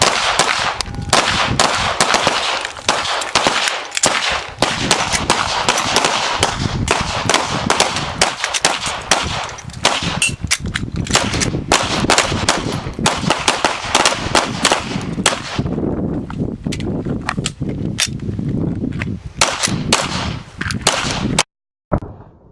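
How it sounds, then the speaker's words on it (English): Rapid pistol gunfire in a defensive shooting drill: loud, sharp reports fire in dense bursts almost continuously for over twenty seconds, easing slightly near the end before a brief silence. "Okay, so he's shooting."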